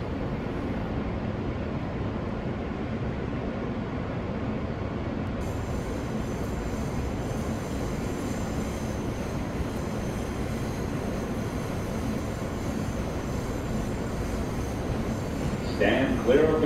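A subway train on the Myrtle Avenue line in a Roblox game rumbles steadily along the track. A recorded announcement voice plays over the rumble, and a brief metallic squeal and clatter rise near the end.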